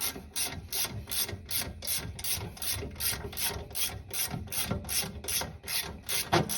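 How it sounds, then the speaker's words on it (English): A wrench ratchets steadily while installing AirLift 1000 suspension on a Honda Fit, producing a close, rapid run of regular clicking strokes with no talk. "it's easier with the wrench. Let's do it with the wrench."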